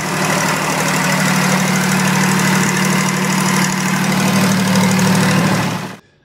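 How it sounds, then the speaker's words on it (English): Air-cooled Deutz F4L912 diesel running steadily at idle, a dense low rumble with a shrill whir from its direct-drive cooling fan, loud and close for several seconds before cutting off abruptly. "The 912's direct drive fan produced a shrill, high-pitched whir that was unmistakable on a job site"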